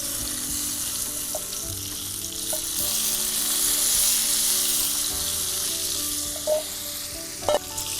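Brinjal pieces sizzle steadily in hot frying masala for a brinjal and paneer curry, a close, continuous hiss with a few brief clinks of stirring near the end and no talking.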